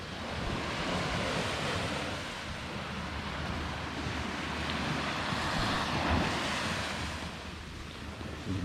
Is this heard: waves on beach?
yes